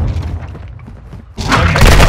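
A precision airstrike explosion in the Call of Duty: Modern Warfare 2 video game, a deep rumbling boom that swells suddenly after a quieter stretch and stays loud to the end.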